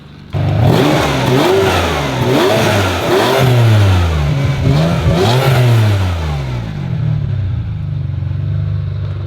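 A 1998 Ferrari 550 Maranello with a Capristo exhaust revs repeatedly up close, its loud engine note climbing and falling in several bursts before settling into a deep, steady idle.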